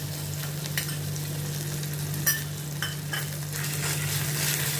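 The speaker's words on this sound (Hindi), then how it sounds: "इसको मैं थोड़ा जीरे के साथ सौते करती हूँ।" Ginger and green chilli paste sautéing with cumin seeds over medium heat, a steady close sizzle with a few sharp spatula scrapes and stirring clicks, no talking.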